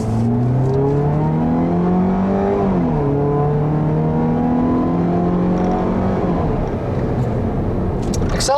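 A base-model 2013 Dodge Dart SXT compact sedan accelerates, its engine drone rising steadily, dropping at a gear change, then climbing again, heard loud and close throughout.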